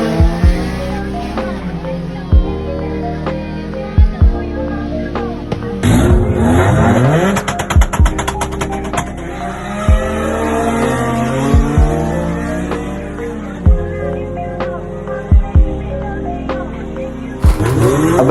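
Drag race cars launching and accelerating hard at a drag race, with loud revving sweeps, tire squeal and repeated sharp engine bursts, near and loud.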